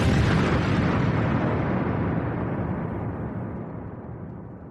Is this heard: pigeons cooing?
no